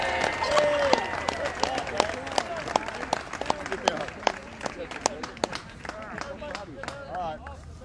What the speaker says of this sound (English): Can everybody give Aaron Austin a big round of applause?